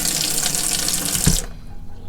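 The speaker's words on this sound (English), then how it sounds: "I'm going to leave it in the middle position, the tap, so it will get water into the hot water as well." A tap set to the middle hot-and-cold position runs into a sink while a fresh water system is flushed with Purisol. A loud, steady hiss of flowing water is heard and then shut off abruptly, leaving near-quiet.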